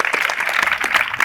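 A brief burst of audience applause for a panelist at the end of a Spanish-language debate; close, busy clapping that lasts only about a second.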